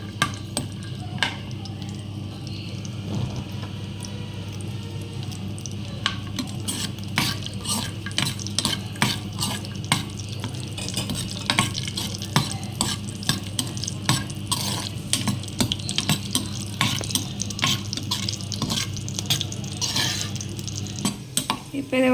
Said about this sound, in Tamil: முந்திரி பருப்பு, திராட்சை, 2 கிராம்பு அது வறுத்துக்கலாம்.